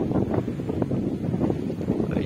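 Steady, rushing wind buffets the microphone with a dense low roar that never lets up, loud and close throughout.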